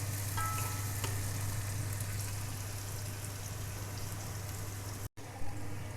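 Chopped onion fries in a pan and is stirred for a turnip bharta. It makes a steady, dense sizzle with soft stirring scrapes, and a low hum runs underneath. The sound cuts out briefly near the end.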